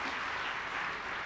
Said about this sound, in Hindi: एक बार ज़रा ज़ोरदार तालियां मुझे बजाकर इजाज़त दे दें